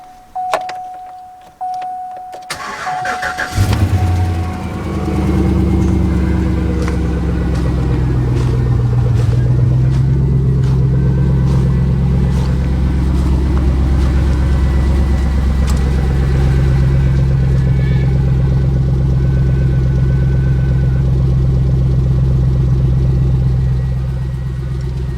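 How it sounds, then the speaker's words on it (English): A 2004 Chevy Silverado 1500 pickup with a lift makes a cold start: a short cranking whir, then the engine catches with a loud roar and settles into a steady, deep idle that runs on. "let's get a cold start up on a 2004 Chevy Silverado"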